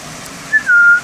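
Red-tailed African grey parrot giving a clear, close whistle: a short rising note followed by a longer sustained tone, alone over a quiet room background.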